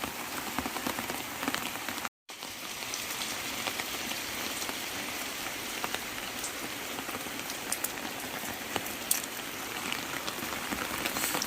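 Dense, steady rainfall pattering on surfaces nearby, a constant wash of drops with a brief dropout near the start, no voices.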